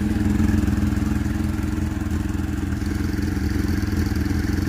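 A 1997 Suzuki GSX-R motorcycle engine, its throttle bodies freshly cleaned, runs at a steady idle close by, a continuous low throbbing rumble with light mechanical clatter and no talk over it.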